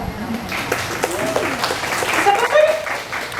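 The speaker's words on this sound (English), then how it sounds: "Here, you guys can clap for him." An audience applauds a trained parrot at the Theater of the Sea parrot show, a steady patter of clapping with voices and a few bird calls mixed in throughout.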